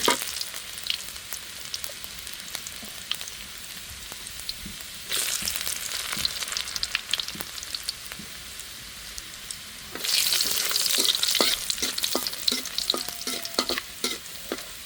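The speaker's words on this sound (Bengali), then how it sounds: "শাক বাগার দিব শাক সিদ্ধ হয়ে গেছে তার জন্য শুকনো মরিচ আর একটু রসুন দিলাম" Dried chillies and garlic fry in hot oil as a tempering for boiled greens. The sizzle is close and crackling, with stirring scrapes throughout, and it swells noticeably louder in bursts partway through.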